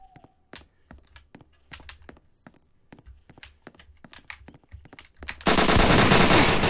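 Gunfire in the Roblox game Apocalypse Rising, a shotgun among it: a dozen or so sharp shots in an uneven burst, then a sudden loud, sustained roar of noise that swamps the last seconds.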